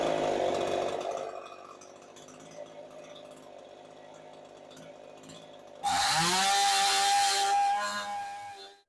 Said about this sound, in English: So then I can run the saw at full speed, and then using the tachometer, shine it down on the reflective area.